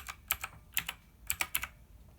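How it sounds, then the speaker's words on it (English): Casual typing on a mechanical computer keyboard at a gaming setup, a few quick clusters of crisp clicky keystrokes, close and fairly quiet, with no talking. "This keyboard. So if I would just casually type something,"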